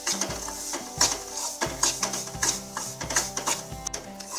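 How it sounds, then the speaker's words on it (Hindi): A spoon scrapes steadily through semolina roasting in melted ghee in a pan, with close, rhythmic strokes about twice a second and soft knocks against the metal. "घी मेल्ट हो गया है तो अब हम इसमें ये सूजी डाल देंगे और इसे लगातार चलाते हुए भूनेंगे।"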